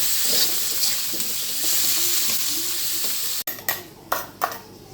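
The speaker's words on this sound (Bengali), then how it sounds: "পেঁয়াজটা একটু ভাজা হবে" Onions frying in a pan with spice paste, a continuous sizzle under light stirring, then cut off by a sharp clack and followed by louder bursts of hissing and scraping.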